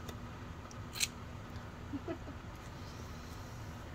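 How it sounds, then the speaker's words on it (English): Scissors snipping a large piece of quilting fabric, with one sharp close cut followed by a couple of softer snips against a quiet room background. "Just gonna go snip."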